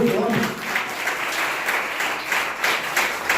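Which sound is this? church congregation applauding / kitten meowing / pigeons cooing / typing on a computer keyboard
church congregation applauding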